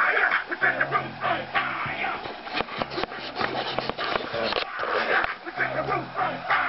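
A pet dog close by makes short barks and high whimpers in several bursts across the clip, with a person's voice mixed in.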